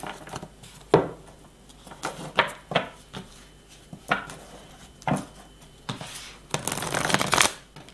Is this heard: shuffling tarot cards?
yes